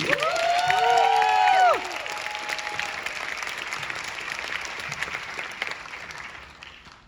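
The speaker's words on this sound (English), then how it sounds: "NCTM, make some noise for the one and only Don Pilotti." A conference crowd applauds and cheers loudly, with whoops and whistles rising over steady clapping that then settles into sustained applause before fading out.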